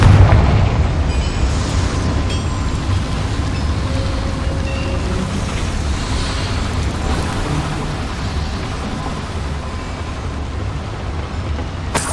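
A Confringo blasting spell goes off in Hogwarts Legacy with a loud, rumbling explosion, followed by a long, heavy roar that slowly fades across the whole stretch.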